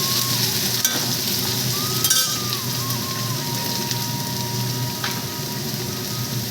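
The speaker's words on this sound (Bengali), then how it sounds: "পেঁয়াজটাকে আমি দিয়ে দেবো তেলের মধ্যে একটু নাড়াচাড়া করে" Onion frying in oil, a steady broadband sizzle held close and even throughout, with a few brief stirring clinks and a faint high tone drifting in the background.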